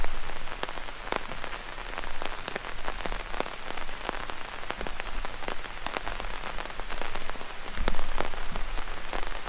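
Steady rain drums on a backpacking shelter on a forest trail, a dense patter of close drops with sharper individual hits scattered throughout, continuous and fairly loud with no talk.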